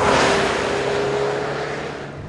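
The exhaust of a PGO Hemera car rumbles steadily with a low, droning tone that gradually fades, no voices present.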